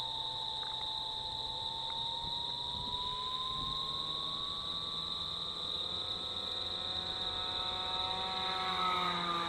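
An FX79 Buffalo RC flying wing makes a flyby, its motor giving a steady whining tone that slowly rises in pitch as it passes, with a constant high tone and light wind in the background.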